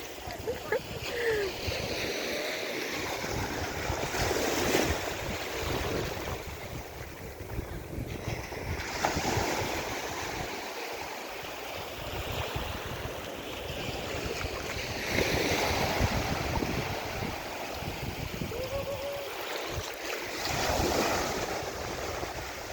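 Sea waves wash onto a busy Black Sea beach at Prymorsk in a steady surging rush, with wind buffeting the microphone and distant voices of bathers mixed in.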